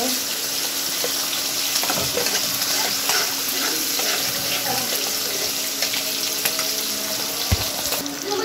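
Masala with turmeric and chili sizzling and frying in a pan as it is stirred, a loud continuous crackling hiss with occasional scraping and clinking of the utensil, close up throughout.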